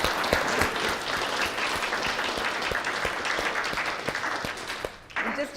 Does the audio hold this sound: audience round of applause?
yes